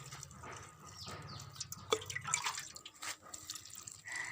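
Water dripping and trickling while newly planted plants are watered, soft irregular splashes and drips close by, faint, with a low hum in the background during the first half.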